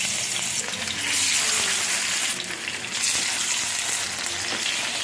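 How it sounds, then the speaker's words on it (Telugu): Fish frying in hot oil in a home kitchen, a loud continuous sizzle and crackle that swells and eases, with no talking. "ఆయిల్ హీట్ అయింది, ఫిష్ వేసుకుంటున్నాను"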